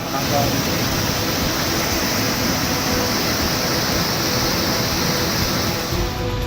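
A rain-fed waterfall pours into the flooded Kedareshwar temple grounds in Sailana after heavy rain, a loud continuous broadband roar of rushing water with no break across the whole stretch.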